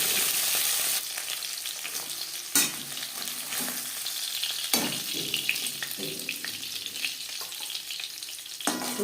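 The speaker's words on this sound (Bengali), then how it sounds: "মাছ ভাজা হয়ে গেছে একটা পাত্রে উঠিয়ে নেব" Fish frying in hot cooking oil in a pan for a winter fish curry, a steady loud sizzle with brief clatters and stirring scrapes breaking in now and then.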